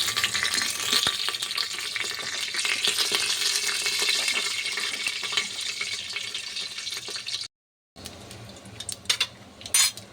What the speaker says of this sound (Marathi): मी दोन लवंग टाकले आहेत दोन दालचिनीचे तुकडे टाकते दोन वेलची टाकली दोन मिरी टाकली आणि दोन तमालपत्र टाकली आहेत